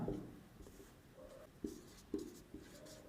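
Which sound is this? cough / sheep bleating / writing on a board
writing on a board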